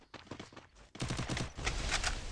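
Video game gunshots, a rapid volley of sharp cracks in quick succession, growing louder and denser after a brief pause, close and punchy.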